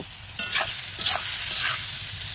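Cabbage sizzles loudly in a wok over a wood-fired stove as a utensil stirs it in three quick scraping sweeps, with no talking.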